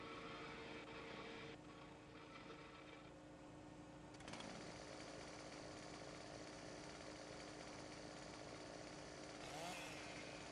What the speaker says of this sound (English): I'm chipping trees right now.